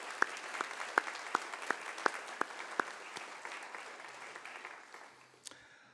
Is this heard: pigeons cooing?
no